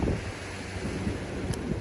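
Ocean waves washing against a shore with steady wind buffeting the microphone, a continuous broadband rush of surf and gusts close by, no voices.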